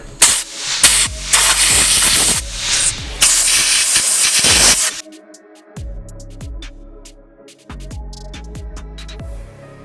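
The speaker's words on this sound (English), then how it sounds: "I'm just gonna take the old handy dandy air nozzle here, spray down in the threads and clean that out a little bit" A handheld compressed air nozzle blasting into bolt threads in loud hissing bursts, one long sustained blast and then shorter quieter puffs amid metallic clicks and knocks.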